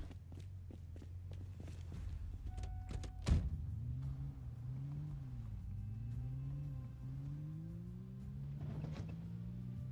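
A video game Humvee engine hums and rumbles low, its pitch rising and falling as it drives, with a sharp thump partway through and no talking.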